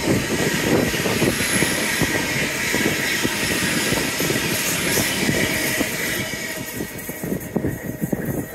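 Loud, continuous rumbling roar of a passing train by a seawall, close by and steady, fading slightly toward the end.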